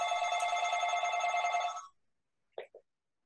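A telephone rings with a bright, steady electronic trill for about two seconds, then stops, followed by two brief soft knocks as it is picked up.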